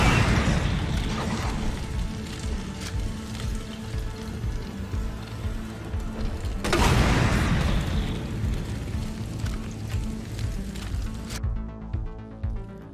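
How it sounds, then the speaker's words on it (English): Fire and explosions in the video game Resident Evil 2. Dense booming blasts and roaring flames fill the mix, with a strong burst near the middle and a continuous crackling rumble until it cuts off near the end. "one effect that does not appear to have been reduced is fire and explosion effects"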